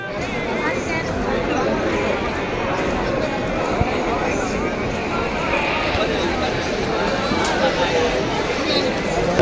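A dense crowd at a Sai palkhi procession fills the air with loud, continuous chatter and overlapping voices, a steady close-up babble with occasional footsteps and knocks.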